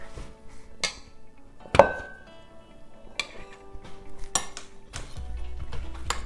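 Two heavy round metal spoons knock and scrape against each other in a kitchen, a handful of sharp clinks and scratches spaced irregularly, close and fairly clear, with quieter handling noise between.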